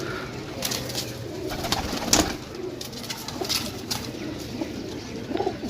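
Pigeons offered for sale in Jhelum, Pakistan, coo softly and repeatedly close by, with low rhythmic calls over a rustling background.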